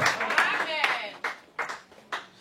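Church congregation clapping in acclamation during a French-language sermon, starting under voices and then thinning to a few separate claps spaced apart.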